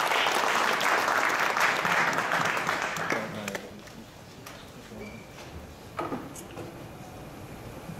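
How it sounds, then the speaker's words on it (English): A crowd applauds at a boxing final press conference before the Tevin Farmer vs Jono Carroll fight. The clapping is loud and dense for about three seconds, then drops to a quieter room murmur with a few stray claps. "A big round of applause, please, for Russell Peltz."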